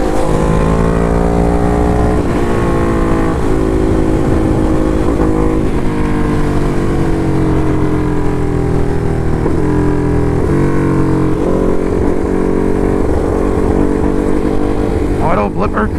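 A Ducati Hypermotard 698 Mono single-cylinder motorcycle being ridden with an auto-blipper quick shifter, its engine droning loud and steady with stepped pitch changes through quick gear shifts, wind noise throughout.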